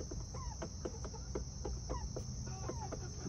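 Backyard hens cluck repeatedly in short, irregular calls close by, with a steady insect or cricket drone underneath and no talking.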